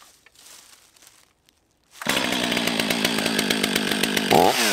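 A STIHL 500i fuel-injected chainsaw is pull-started: quiet faint rustling, then the engine catches and roars into a loud, steady close-up idle, revving briefly at the end.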